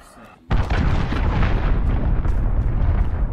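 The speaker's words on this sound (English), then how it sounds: "Allied cruise missile away" Allied cruise missile strike in Call of Duty Modern Warfare VR on PlayStation VR: after a quiet moment, a sudden loud blast erupts into a sustained rumbling roar of explosions that carries on to the end.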